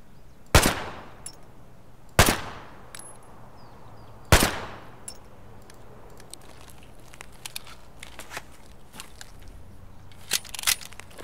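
Gunfire in the Escape From Tarkov video game: three loud, sharp shots spaced about two seconds apart, followed by scattered faint clicks and small clatters.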